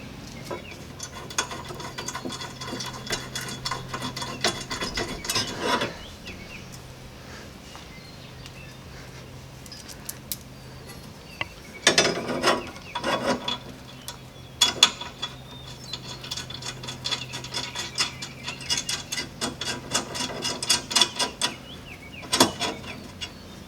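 A ratchet tightens the bottom bolts of a Chief Products lower front guard on a Jeep Grand Cherokee WK2 Overland. Close, rapid clicking comes in several separate bursts, with quieter handling noise between them.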